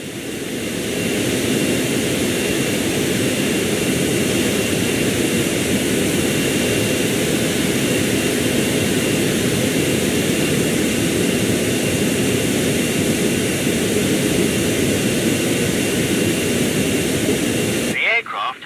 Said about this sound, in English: The aircraft has now positioned itself at the base of the stand.